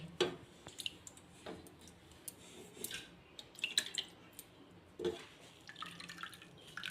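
Water dripping and squishing as milk chhana is strained through white cotton cloth, with soft scattered drips and wet squeezes at close range and no talk.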